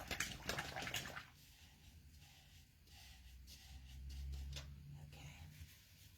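A flat paint brush is swished and rinsed in a water container, giving soft sloshing and trickling. Muffled talk is faint in the background.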